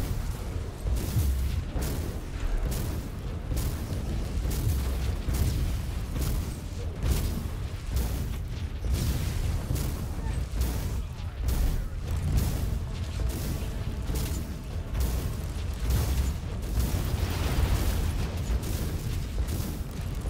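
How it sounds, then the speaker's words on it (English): Dense, continuous rumbling blasts and booms from a Warhammer 40k Martyr battle pile up with no pause, a heavy low-end barrage of repeated explosions and gunfire throughout. "There's a lot of explosion things and I don't like them now."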